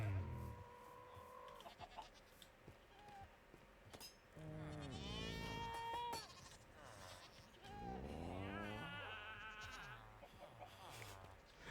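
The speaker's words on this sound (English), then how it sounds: "So many goat noises." Goats in a farming video game bleat repeatedly, several wavering, nasal cries that overlap and follow one another in bursts, with fainter background noise between them.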